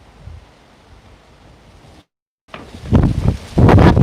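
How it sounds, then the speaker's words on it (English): Strong wind blows outdoors and buffets the microphone. A low rumble gives way to a short silence, then loud gusty roaring bursts that swell and fade. "It's so windy."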